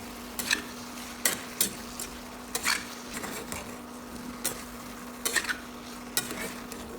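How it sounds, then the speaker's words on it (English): Food stir-frying in a pan with a soft sizzle underneath, punctuated by intermittent scraping clanks of a utensil against the pan. "Keep stir-frying until everything is well combined."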